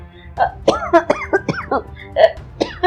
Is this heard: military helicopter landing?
no